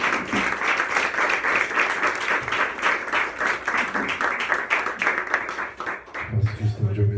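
A church congregation applauds steadily through most of the stretch during a worship service, a dense, continuous wash of clapping hands with voices mixed in, easing briefly near the end before a low murmur returns.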